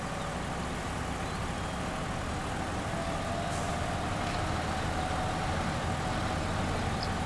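A truck engine drones steadily in a mud-driving stretch of the Spin Tires video game with high gear engaged, a constant, dense rumble that holds at an even loudness throughout, with no voices.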